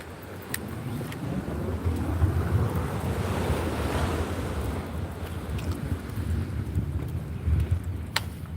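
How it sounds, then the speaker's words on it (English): Sea waves break along a seaside promenade in a continuous, loud rushing roar that swells and recedes, mixed with gusty wind buffeting the microphone and a few faint clicks. "he gets a bit stressed at the noise the sea makes"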